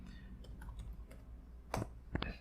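Computer mouse clicks at a desk, a few faint, sharp isolated clicks over a low hum, with two more distinct taps near the end.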